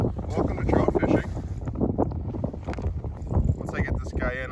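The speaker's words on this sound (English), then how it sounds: "It's kind of windy. I hope the audio is not too bad." Wind gusts across a frozen lake during lake trout ice fishing, buffeting the microphone with loud, uneven low rumbles and whooshes close up, with a voice faintly mixed in.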